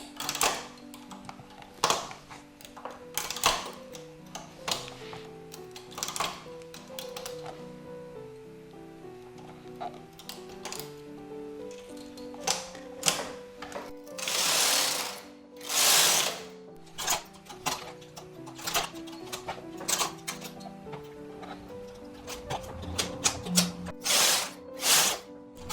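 Domestic knitting machine carriage sliding back and forth across two rows, a steady mechanical clatter and rattling of needles with repeated passes, close and fairly loud, a few sharper bursts midway.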